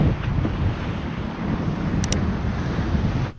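Sea waves wash onto the beach at Coro, Venezuela, a continuous broad surf roar heavily mixed with wind buffeting the microphone.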